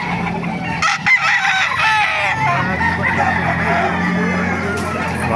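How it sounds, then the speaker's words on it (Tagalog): Chickens cluck and a rooster crows amid a busy chicken market at the Baliuag tiangge, with crowd babble and voices around, the birds loud and close. "Napakaraming manok ito"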